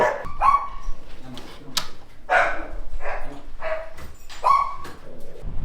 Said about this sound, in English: that was super overwhelming in there with all those dogs